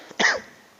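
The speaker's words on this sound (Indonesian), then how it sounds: "batuk anginnya kumat" A single short, harsh cough from a man who has been ill, close to the microphone and alone, with a faint throat sound just before it.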